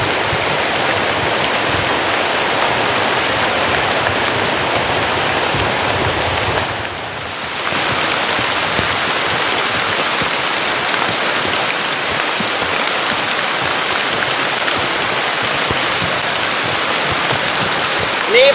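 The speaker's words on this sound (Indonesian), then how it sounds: "Ini hujannya lama banget teman-teman." Heavy rain drums steadily on a tent in a forest during a storm, a dense, loud, continuous hiss that barely dips for a moment partway through.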